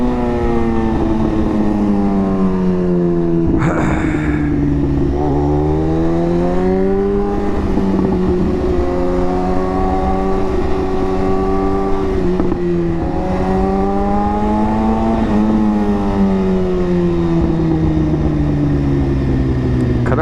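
An Audi car drives past, its engine note rising and falling in several sweeping passes over about twenty seconds, loud and close with steady road noise underneath.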